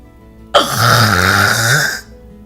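A voice imitates loud snoring, one long rasping, rattling snore of about a second and a half, close and alone.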